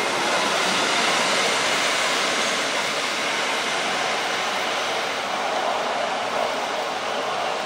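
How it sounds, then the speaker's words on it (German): A Swiss train is shunted at St. Moritz station. A steady, loud broadband rumble and hiss of rolling stock runs the whole way through, with no talk. "Und nun wird auch der Glacier-Express rausrangiert."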